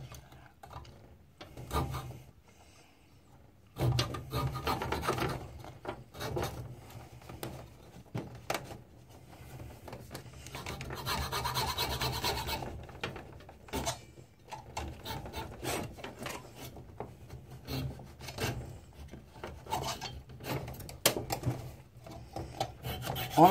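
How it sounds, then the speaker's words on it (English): Small wooden barn pieces get sanded down by hand with sandpaper, heard as close, rhythmic rasping strokes in bursts with short pauses, filling most of the span after a quieter start. "take sandpaper and just sand it down like so"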